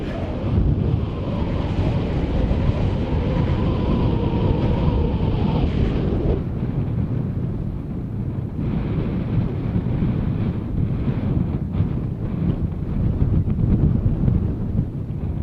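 Strong gusting wind roars and buffets the microphone in Death Valley, USA, a loud continuous rush with shifting surges and no voices.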